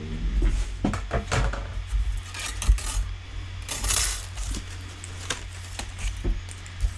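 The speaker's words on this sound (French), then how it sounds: "Je vais aller découper ma petite enveloppe et je vous montre le résultat." Someone cuts a small paper envelope for a handmade greeting card. The cuts come as a series of soft, close snips and crisp clicks spaced irregularly in a quiet room.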